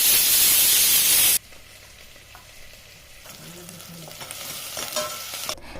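Onion, garlic-ginger paste and tomato sautéing in a pan, a loud steady sizzle for the first second or so that cuts off abruptly, then quieter stirring and light scraping sounds follow.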